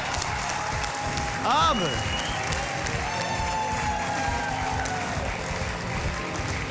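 Applause from a studio audience on the Hindi game show 10 Ka Dum fills the clip, with a host's voice talking over the steady clapping.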